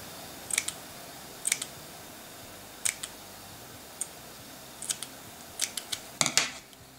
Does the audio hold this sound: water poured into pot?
no